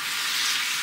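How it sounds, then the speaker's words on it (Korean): Meat stir-frying in a pan for homemade jajangmyeon at a winter campsite, a steady close broadband sizzle that holds without a break and with no talk. "이거 볶는 것도 진짜 엄청 오래 걸리네."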